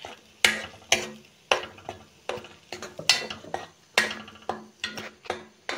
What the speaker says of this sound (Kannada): ಒಂದು 2 ನಿಮಿಷ ಬೇಯಬೇಕು ಅದು, ಅಂದರೆ ಸ್ವಲ್ಪ ಫ್ರೈ ಮಾಡಬೇಕು